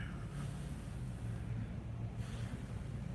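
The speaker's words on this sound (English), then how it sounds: "I'm just sitting in here, idling it, charging the battery." A Batmobile replica car idles while parked, its engine giving a low, steady rumble close up with a breathy, wind-like hiss over it and no speech.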